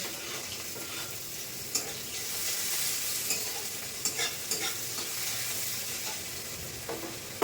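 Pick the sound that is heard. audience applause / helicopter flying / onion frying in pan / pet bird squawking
onion frying in pan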